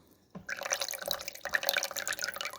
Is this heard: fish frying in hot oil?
no